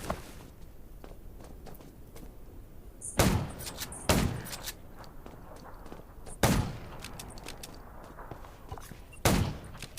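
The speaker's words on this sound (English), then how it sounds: "Gunshots will attract" Several sharp gunshots in the game Undawn ring out at irregular intervals, separated by quieter stretches of faint clicks and movement.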